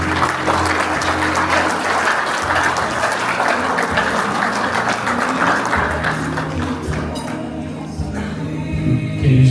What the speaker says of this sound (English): And now, round of applause for the newlywed couple, please.